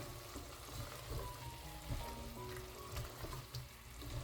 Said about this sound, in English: Then I'll give everything a good stir